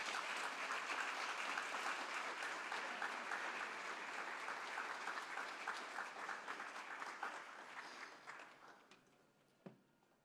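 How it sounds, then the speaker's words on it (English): Audience applause for the mayor at the close of an evening talk event, dense clapping from a crowd that gradually thins and fades out over about ten seconds, ending with a few scattered claps. "a round of applause for the mayor"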